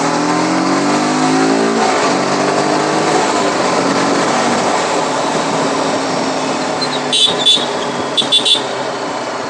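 A TVS Apache RTR 310 motorcycle idles nearby, its engine note holding steady, then a few short sharp throttle blips arrive near the end.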